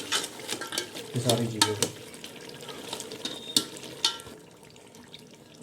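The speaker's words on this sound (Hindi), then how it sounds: "और इसे भी अच्छी तरह से हम मिक्स कर लेंगे" Spices and mutton being stirred in a frying pan for Afghani-style mutton pulao, with scraping clatter and a soft sizzle; a brief stretch of running water sounds midway, and a voice says a few words.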